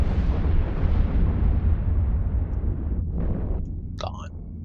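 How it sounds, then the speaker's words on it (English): A ship explodes in the space game Eve Online, a loud, rumbling blast that decays over several seconds, followed by a brief electronic game sound. "Oh, watch the pretty explosion."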